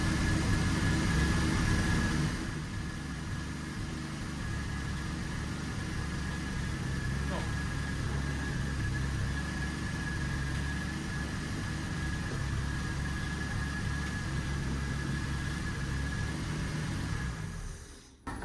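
A 1970 Triumph TR6 engine idling close by, a steady low rumbling hum that holds evenly for about eighteen seconds before cutting off abruptly.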